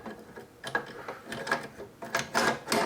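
An AR-15 bolt with its gas key being slid and clicked into the upper receiver, giving a series of close metallic clicks and scrapes in short bursts.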